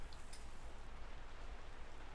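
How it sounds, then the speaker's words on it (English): Steady rain falling, a soft, even hiss with faint scattered drops, fairly quiet and continuous with no talk. "it's raining again."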